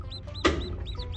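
A hen clucks softly a few times amid a small flock with newly hatched chicks, with one louder brief squawk over steady low background noise.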